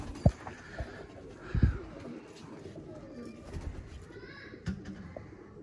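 A pair of thorn-crested teddy pigeons coo close by in a series of soft, throaty calls, with a few sharper thumps and rustles in between.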